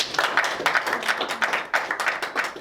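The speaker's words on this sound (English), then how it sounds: "You can give his family a round of applause, please" A small audience at a lecture on the 1994 genocide against the Tutsi in Rwanda claps for a family present: distinct, rhythmic bursts of hand claps, fairly close and moderately loud, with no talking.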